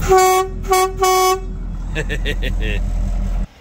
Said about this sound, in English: Well, it's got an air horn.